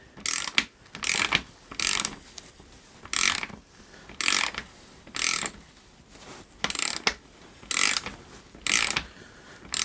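Ratcheting wrench clicks in repeated bursts as a Shimano Hollowtech II BSA threaded bottom bracket (SM-BB52) is unscrewed from a bicycle frame, with close, loud mechanical ratchet sounds separated by short pauses.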